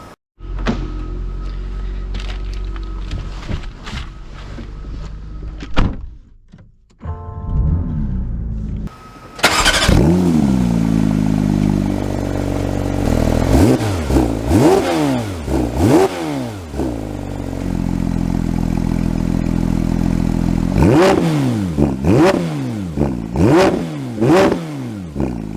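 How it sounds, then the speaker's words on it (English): A Porsche 911 GT3 of the 992 generation revs hard while driving, its engine climbing and dropping through repeated sweeping pulls and shifts, loud and close, after a brief quiet start-up section. "let's see how the GT3 drives."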